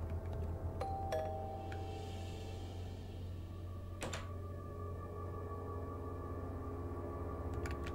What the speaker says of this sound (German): Vielleicht geht der Mann zur Tür, wenn ich klingel.